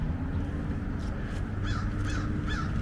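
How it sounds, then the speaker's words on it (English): Crows caw repeatedly as a flock circles above a cemetery near a priest's grave, three or four harsh calls rising over a steady outdoor rumble. "A murderer crow flock above the dead priest's grave."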